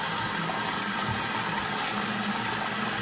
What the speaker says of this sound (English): I'm just going to dampen my face with the warm water